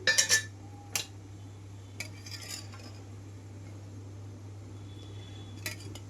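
Metal pan set on a stove with a few sharp clinks and utensil taps at the start, then quiet hum and faint scraping as oil is added for a bendakaya egg pulusu.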